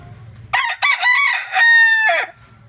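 A rooster crows loudly and close by, one full cock-a-doodle-doo with a long held final note, against a quiet background.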